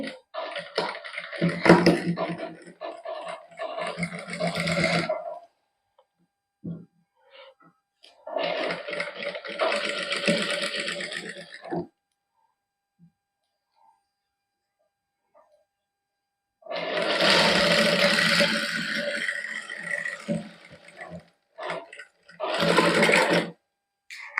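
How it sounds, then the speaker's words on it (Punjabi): A sewing machine stitches the neckline of a lined shirt in three longer bursts and a short final run, close and rhythmic, separated by quiet pauses with faint handling. "ਇੱਥੋਂ ਹੁਣ ਆਪਾਂ ਇਸ ਤਰ੍ਹਾਂ ਚੱਕ ਕੇ ਹੌਲੀ ਹੌਲੀ ਸਿਲਾਈ ਲਾ ਦਾਂਗੇ"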